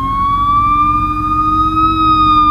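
An ambulance siren wails steadily on a US street, loud and close, its tone rising slowly and holding across the whole stretch with a low road rumble underneath.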